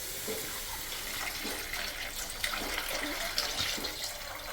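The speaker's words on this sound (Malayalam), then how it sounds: "ആവശ്യത്തിന് വെള്ളം ഒഴിക്കുക" Water poured into a cooking masala for vermicelli, a soft, fairly faint splashing and trickling pour with small liquid bursts throughout.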